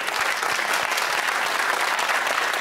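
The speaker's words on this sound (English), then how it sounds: "Big round of applause." Studio audience on the television word game show Countdown breaks into sustained applause, a dense steady wash of clapping filling the whole stretch at moderate loudness with no talk over it.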